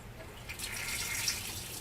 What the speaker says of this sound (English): We'll turn the water on, divert the flow,